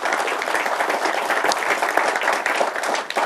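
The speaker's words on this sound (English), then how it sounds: "Please give her another round of applause." An audience at an event gives sustained applause, with dense clapping from many hands that stays loud and steady the whole time.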